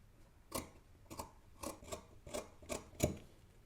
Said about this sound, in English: Now I'm about to trim this right here off at least by half.